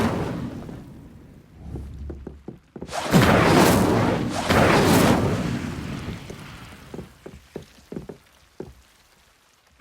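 An Incendio fire spell cast in Hogwarts Legacy bursts out as a loud whooshing blast that swells for about two seconds and fades, followed by scattered light thuds and clicks.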